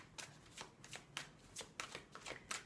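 Tarot cards shuffled by hand in a steady run of soft, papery riffling bursts, close and fairly quiet, with no talking.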